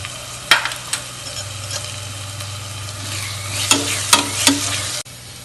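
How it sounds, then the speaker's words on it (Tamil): Ground green chili paste sautéed in a pan for mutton kulambu, with a steady sizzle under several sharp spoon scrapes and knocks against the metal, close and loud, ending abruptly. "இதையும் போட்டு நம்ம கொஞ்சம் நல்லா வதக்கிக்குவோம்."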